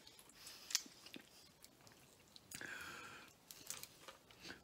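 Close, quiet chewing of cooked Cajun shrimp: soft wet squishes and a few crisp bites spread over several seconds, with no talk.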